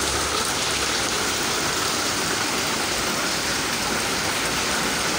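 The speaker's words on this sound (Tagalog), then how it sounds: "Tama na ulan. Dami mo ng ulan." Heavy rain pours down in Hong Kong, a loud, dense, unbroken hiss of water hitting surfaces close by, with no voices heard.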